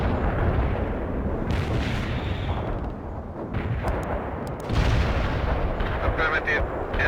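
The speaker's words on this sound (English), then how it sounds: "Commencing the barrage. Want an artillery barrage?" Artillery barrage in the real-time strategy game World in Conflict, a dense, continuous rumble of booming shell impacts and gunfire with louder bursts partway through, under faint game chatter.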